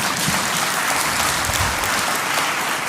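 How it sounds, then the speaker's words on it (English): A conference audience at an aviation ground handling event applauds steadily and loudly for about three seconds, a dense wash of clapping with no voices over it. "I expect you to clap for that."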